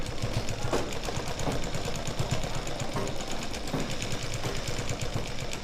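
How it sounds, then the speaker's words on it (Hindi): A sewing machine stitches lined pants in a fast, continuous mechanical chatter of rapid needle strokes, close and moderately loud, without any talk. "यहाँ तक सिलाई लगाएंगे।"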